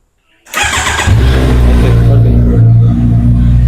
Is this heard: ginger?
no